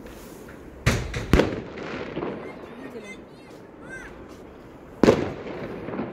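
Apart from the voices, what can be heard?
fireworks and firecrackers going off outside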